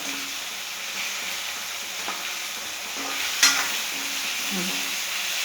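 Onion and tomato fry in oil in a pan for egg masala, a steady soft sizzle with occasional stirring scrapes and one brief sharper clink partway through.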